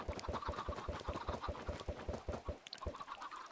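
Chickens cluck in the video game Minecraft, a rapid run of short, evenly spaced clucks that carries on steadily and stays fairly loud before thinning out near the end.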